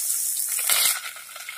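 Crushed spices tipped into hot oil with chilli and curry leaves for rasam give a steady, close high-pitched frying sizzle that swells briefly mid-way, then settles back to a softer hiss.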